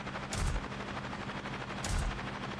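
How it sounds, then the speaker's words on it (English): M242 Bushmaster cannon on an M2 Bradley fires in the Cepheus Protocol video game, with two loud, heavy bursts of rapid booming shots about a second and a half apart over constant background noise. "Armed with an M242 Bushmaster cannon."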